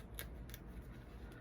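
Scissors snip paper in a few quick, crisp cuts, close and faint, with short gaps between strokes in a quiet room.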